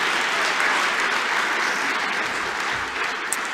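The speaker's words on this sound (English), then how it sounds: "Let's give them another round of applause." Steady applause from a graduation audience honouring VET Creative Arts graduates, a dense, continuous wash of clapping throughout with no pauses, filling a large hall.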